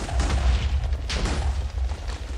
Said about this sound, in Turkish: Patlamalar çatlamalar olabilir.